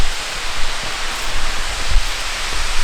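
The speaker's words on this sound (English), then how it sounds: "Look how big this waterfall is, Kai." A large waterfall in the bush of Werrikimbe National Park roars as a steady, loud, broadband rush of falling water, close by and continuous, with no voices over it.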